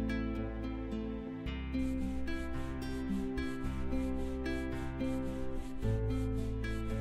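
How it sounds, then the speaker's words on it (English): A towel wipes a figure dry with a series of quick, regular rubbing strokes over steady background music. "Wipe the figure with a towel."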